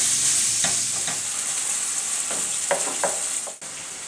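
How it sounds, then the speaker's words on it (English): Ground beef sizzles steadily in a pan with Rice-a-Roni and dehydrated mushrooms, tomatoes and onions, a constant close frying hiss broken by occasional scrapes and clicks of stirring. "So we'll fry this up."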